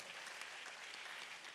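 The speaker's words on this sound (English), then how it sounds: "Please a round of applause." An audience at a foundation event on sustainable development and school feeding gives continuous applause, a soft, even wash of many hands heard from a distance at low volume.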